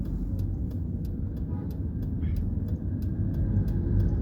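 A manual car pulls away gently in first gear as the clutch is eased out, a steady low engine rumble running continuously and close by.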